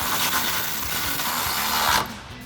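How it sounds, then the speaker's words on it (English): A 16mm socket ratchets a bolt tight on a rail of a Jeep Gladiator JT, a close, continuous metallic clicking and grinding that stops abruptly near the end. "Take our 16mm socket and tighten up our Ruby rail."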